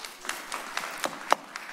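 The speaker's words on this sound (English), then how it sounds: "Can we please refrain from clapping?" Scattered, sparse handclaps from an audience at a city planning commission meeting, a few separate claps spread unevenly over a couple of seconds, faint and roomy with no voices.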